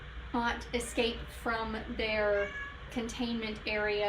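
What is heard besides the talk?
cats meowing in the background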